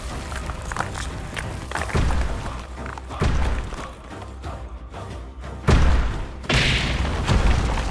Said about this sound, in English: A follow-up punch overloads the organic creature's senses.